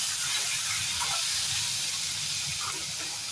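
Tomato and slit green chillies hitting potatoes already fried red in oil, giving a loud, steady hissing sizzle that runs continuously and close with no talk.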